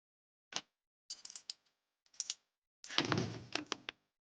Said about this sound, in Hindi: अरे दरवाजा लॉक क्यों कर रही हो?